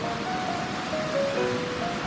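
Sea waves wash steadily onto the beach at Destin, Florida, a continuous broadband surf roar with gentle swells and no voices.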